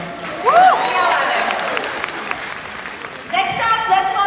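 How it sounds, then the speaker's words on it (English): Audience applause and cheering for student representatives at a logo unveiling celebration in Mumbai, with a loud whoop or whistle early on and voices calling out over the clapping toward the end. "तो सबके लिए तालियां बजाओ।"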